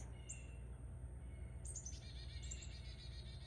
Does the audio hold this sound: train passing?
no